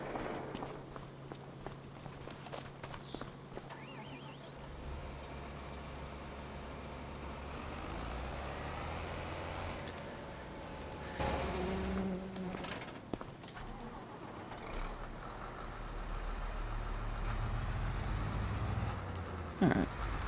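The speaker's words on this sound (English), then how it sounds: "Well, we got to move the tractor first." A tractor in the Farming Simulator 25 video game, used alongside a forage harvester and trailer for a corn silage harvest, drives with a steady low engine rumble that grows louder and heavier toward the end, with scattered clunks and a brief voice.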